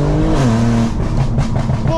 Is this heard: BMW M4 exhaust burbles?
yes